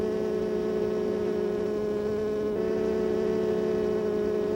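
Steady droning hum of honeybees fanning their wings inside a hive, a continuous close buzz with even pitch and level throughout, no voices.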